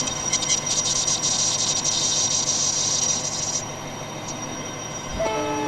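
A train in the Roblox game Epic Rails rumbles steadily and loudly, a bright high horn tone held for about three seconds before it drops away, then a short chiming signal near the end.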